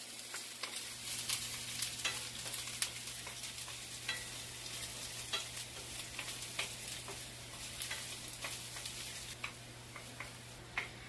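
Onions sautéing in a pan give off a steady, close sizzle, dotted with small ticks and pops over a low constant hum, with no talking.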